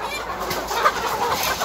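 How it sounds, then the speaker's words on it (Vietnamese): Chickens in a farm coop cluck softly in a short, steady stretch of farmyard sound, with no talk. "Ê, gà đẹp chưa mọi người ơi,"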